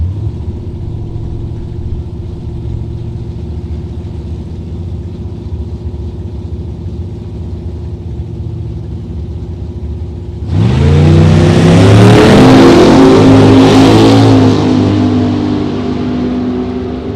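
Chevrolet Camaro drag cars, a 2001 and a 2010, idle with a low rumble, then launch down the strip with a sudden, loud, rising engine roar that holds to the end.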